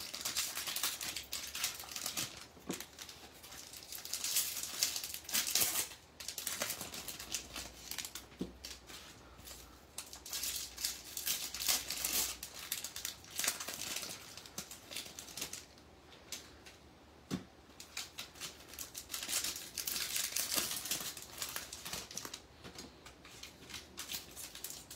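Packs of 2022 Topps Series 1 baseball trading cards are torn open one after another, a long run of close, crackling foil rips and papery rustles in irregular bursts, with no talking.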